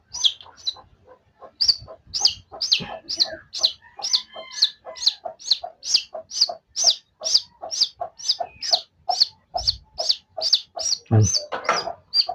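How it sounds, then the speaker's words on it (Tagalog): Eight newly hatched chicks peep in a fast, steady rhythm of high, bright chirps, close by, with a few softer clucking notes mixed in and no talking. "Walo lang ang sisiw ko ito."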